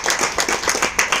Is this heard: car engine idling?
no